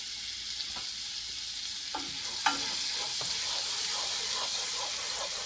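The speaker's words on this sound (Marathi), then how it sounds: "बटर मेल्ट झालं की लगेच आपण ह्याच्यामध्ये आपली ब्रोकलीची प्युरी ॲड करून घेऊया" Broccoli puree goes into melted butter in a hot pan, giving a steady close hiss and sizzle with a few sharp clinks and scrapes of stirring and no talk.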